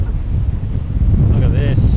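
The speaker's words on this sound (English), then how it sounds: "That is massive out there. It's windy. The swell's massive." Strong coastal wind buffets the microphone in a steady low roar beside a heavy sea swell, with faint brief tonal sounds near the end.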